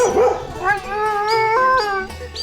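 A dog howls in a long, wavering cry, rising and breaking into a couple of higher drawn-out notes, close and loud.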